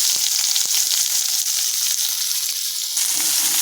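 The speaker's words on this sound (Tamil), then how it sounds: "இப்போ நல்லா வணக்கி விடலாங்க" Onions and curry leaves sizzle steadily in a hot pan for fish chukka, a close, continuous frying hiss with a few stirring scrapes and a brief shift near the end.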